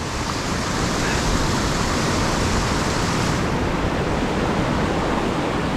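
High, fast river water rushing through the gorge at Ohiopyle, a loud, steady broadband roar that fills the whole scene without pause, close and overwhelming, with no voices.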